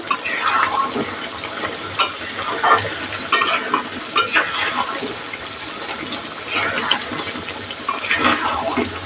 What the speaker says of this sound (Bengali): দু চা চামচ চিনি অ্যাড করে দিলাম